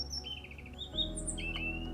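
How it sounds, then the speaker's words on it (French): A Canary Islands robin, the endemic Tenerife subspecies, sings a run of thin, high whistled phrases and trills over a steady low background hum, moderately close. "On peut aussi entendre le rouge-gorge des Canaries."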